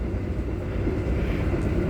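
A train passes on an Indonesian railway line near Haurgeulis, heard from aboard another train as a steady, loud low rumble and rolling noise with no clear clicks.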